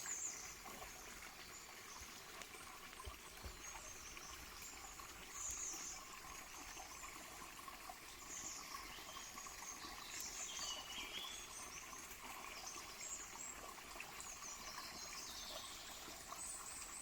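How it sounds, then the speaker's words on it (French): A small forest stream trickles and burbles steadily nearby, a constant watery hiss with faint birdsong in the background. "Je sais pas si vous entendez le bruit de l'eau là, il y a un petit ruisseau qui coule."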